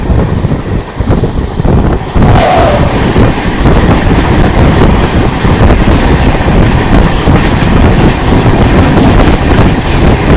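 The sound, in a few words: Chennai Trivandrum Super AC Express train running at night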